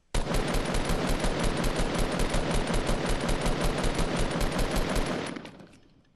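Sustained rapid-fire automatic gunfire in a multiplayer shooter video game, loud and close, a steady burst of shots running for about five seconds before cutting off and fading.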